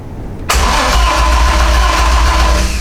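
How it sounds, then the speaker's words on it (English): A BMW E30 with a swapped M52B28 engine cranks and catches, then runs steadily at close range with a loud, even engine drone after a brief quiet start. "I'm going to crank it and see if we get a reading"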